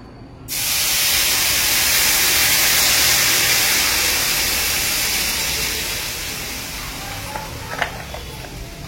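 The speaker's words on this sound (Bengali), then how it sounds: "এবার সুজিটা দেখো ভাজা হয়ে গেছে, এবার জল দেবো" Water hits a hot pan of roasted semolina and sets off a sudden loud hissing burst of steam. The hiss holds steady, fades slowly over several seconds, and a few faint clinks follow.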